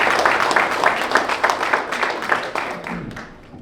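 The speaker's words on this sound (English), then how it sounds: "So big applause for Devon Garcia" Audience applause at a boxing press conference at the El Paso County Coliseum, a lively burst of clapping with distinct individual claps that gradually thins and fades toward the end.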